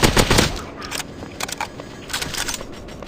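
Rapid automatic gunfire rattles in a war video game, an AK-type rifle among the weapons, with a loud burst at the start and then continuous crackling shots and impacts up close.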